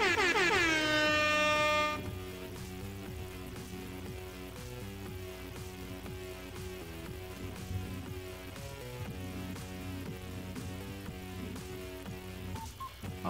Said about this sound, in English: Give those MLG air horns out there.